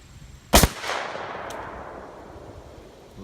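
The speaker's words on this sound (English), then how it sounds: "it's Terry's turn for the headshot with the Sega 12" A single loud shotgun blast from a Saiga 12 fired at a target, an abrupt crack followed by a rolling outdoor echo that fades over a few seconds, with a faint distant report afterward.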